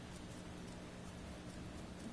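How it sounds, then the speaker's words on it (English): Rain falls in the video game Space Engineers, a steady, faint wash of hissing rainfall with no breaks and no talking over it. "And now it's raining."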